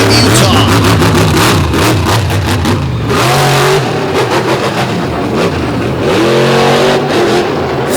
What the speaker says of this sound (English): the Eddie Micah built brand new truck out of Utah